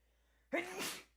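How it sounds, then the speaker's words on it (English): A single sharp sneeze erupts close up after a brief quiet moment, with a sudden intake and a breathy, hissing release. "Oh, I'm gonna sneeze."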